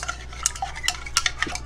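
Lye solution being stirred into a water solution for homemade cosmetics, with quick scraping and clinking strokes of a utensil against a container in short, irregular bursts, close and fairly quiet.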